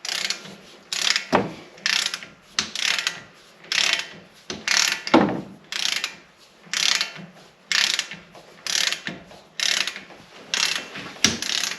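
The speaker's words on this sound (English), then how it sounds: "So we're torquing this one to 100 foot-pound." A torque wrench ratcheting steadily as wheel bearing bolts on a 2017 Jeep Wrangler JKU are torqued to 100 foot-pounds, about a dozen evenly spaced clicking strokes, close and clear, with no voices.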